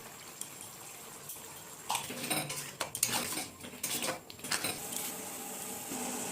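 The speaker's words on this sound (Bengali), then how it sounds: "এবার কিছু টমেটো কুচি, হলুদ, লবণ ও জিরের গুঁড়ো দিয়ে মশলাটাকে ভালো করে কষিয়ে নেব" A masala of chopped tomato, turmeric, salt and cumin powder is stirred in a pot for chicken biryani, with a spoon scraping and clinking against the metal in irregular bursts over a low background hiss.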